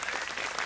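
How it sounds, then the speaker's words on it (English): Concert audience applauding, a dense steady wash of clapping filling the whole brief moment at an outdoor folk show in Abbotsbury. "Give them a round of applause, please."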